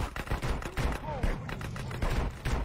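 Rapid gunfire bursts from the game GTA San Andreas crackle in quick repeated volleys, with voices chattering over the shooting.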